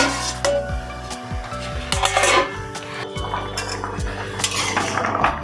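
A lid set down on a cooking pan of thin Bengali fish curry seasoned with turmeric and salt, giving metallic clinks and clatters of cookware, several sharp knocks spread across the clip close by.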